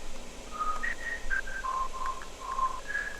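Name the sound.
whistle sound in remix drop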